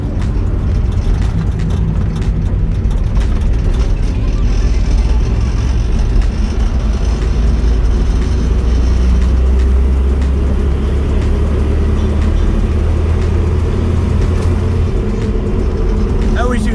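A 1982 Datsun 720 4x4 pickup rolls steadily along a bumpy, dipping road, a low, continuous engine and road rumble filling the cabin from start to finish, with faint rattles over the uneven surface.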